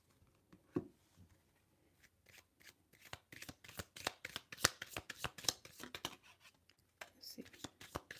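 Tea leaf oracle cards being shuffled up close, a quiet run of rapid papery riffles and taps that grows busier and then eases, with faint whispered speech.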